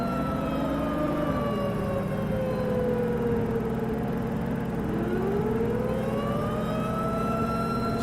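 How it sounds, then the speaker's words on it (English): A tornado warning siren in the Storm Chasers video game wails continuously, its long tone slowly falling and then rising again in a sweeping cycle, loud and steady with no voices over it. "It's the one which makes it sounds like more of an end of the world siren than a tornado siren."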